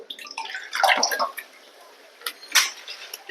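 Water let out of a container holding live bata fish, sloshing and dribbling in short splashy bursts, close by, with a voice talking briefly.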